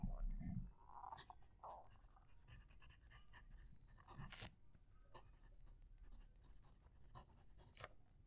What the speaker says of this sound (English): I'm going to move the microphone down to the page so you can hear the pen writing